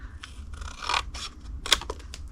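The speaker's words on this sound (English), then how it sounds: "we're going to put our scissors right at this corner here and cut it straight, well, diagonally up to that corner" Scissors cutting diagonally into the corner of a cardboard hot cocoa gift box, a few close, crisp snipping and scraping strokes with quiet pauses between them.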